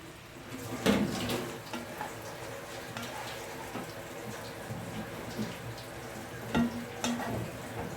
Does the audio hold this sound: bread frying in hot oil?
yes